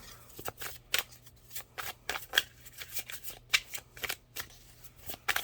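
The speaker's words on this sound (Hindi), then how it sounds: "मैं एक कार्ड और निकालती हूँ।" Tarot cards are riffled and shuffled in quick bursts, crisp papery flutters and snaps repeating irregularly, close and clear with no talking.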